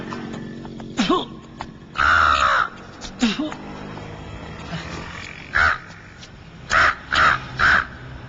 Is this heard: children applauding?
no